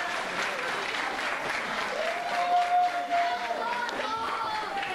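A large wrestling-event crowd applauding and cheering steadily after a suicide dive, with a brief whistle rising over the roar partway through.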